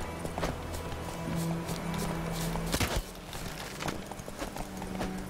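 Horse hooves in The Witcher 3 clatter in a walking-to-trotting rhythm, close and moderately loud, with a snort and a heavy thud partway through.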